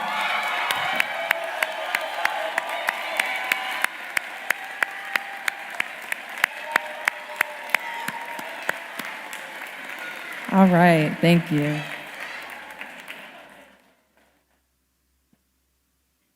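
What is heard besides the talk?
applause for TMA alumni staff members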